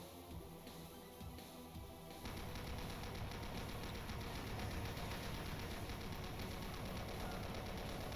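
Chaingunner enemies firing chainguns in Doom, a dense, rapid, continuous rattle of automatic fire that starts a couple of seconds in and keeps hammering loudly to the end amid game noise.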